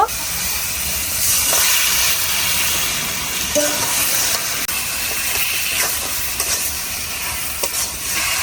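Desi chicken meat dropped into hot oil and well-fried spice paste for homemade biryani, sizzling and hissing steadily and loudly with occasional stirring scrapes, no talk.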